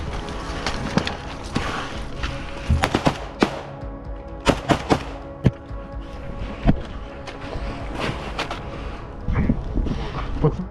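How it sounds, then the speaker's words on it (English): Gunfire in a forest during a Ukrainian special forces close-quarters sweep, with sporadic sharp shots and short bursts cracking over a dense, rustling background for about ten seconds, some loud and some farther off. "The sporadic sound of gunfire gradually died down."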